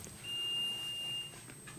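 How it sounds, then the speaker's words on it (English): A faint electronic buzzer in a meeting room gives a steady high-pitched tone lasting about a second, heard quietly from a distance against low room noise. "That buzzer likes me."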